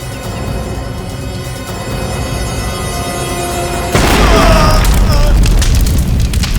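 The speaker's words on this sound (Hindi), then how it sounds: "धमाके की आवाज।" A sudden loud explosion blast in a crime drama erupts midway after a stretch of tense, droning music, then rumbles and crackles on with a broad, heavy roar.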